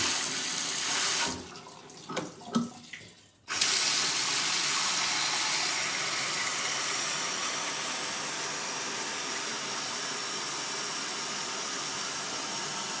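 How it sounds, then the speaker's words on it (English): Water gushes from a tap in a strong, steady stream after a brief sputter, continuing loud and constant with no voices. "hot water, amazing, that's good hot water too"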